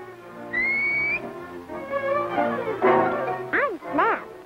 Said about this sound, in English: they come every morning as soon as I whistle